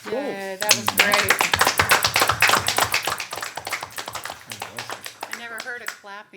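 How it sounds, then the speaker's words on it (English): Brief round of clapping from a small group at a county commission budget presentation, sharp dense hand claps filling several seconds and thinning out, with voices and a cheer mixed in. "I never heard of clapping after a budget presentation."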